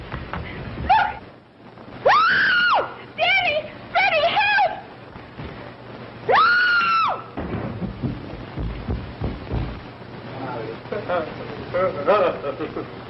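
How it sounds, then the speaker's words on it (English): A woman's high, drawn-out screams in a vintage film scene, loud and repeated several times, mixed with dialogue and a steady background hum. "What are you screaming for"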